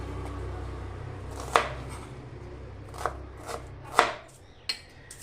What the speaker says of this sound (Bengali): পেঁয়াজটাও আমি ঝিরি ঝিরি করে কেটে নিচ্ছি